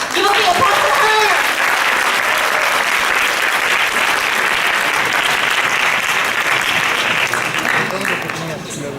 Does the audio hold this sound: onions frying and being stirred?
no